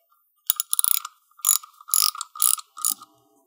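Ratchet wrench tightening a nut on a Ferrari 308 QV intake: five or six short bursts of quick metallic clicking, close and crisp, separated by brief pauses.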